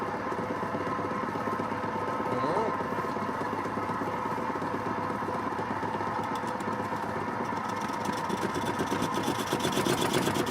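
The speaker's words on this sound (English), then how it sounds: "There's wobbling sound. Sort of vibration of some kind." A Record wood lathe turns a wet, heavy tiger maple or sycamore bowl blank, giving a steady, close droning hum with a wobbling vibration that holds level throughout.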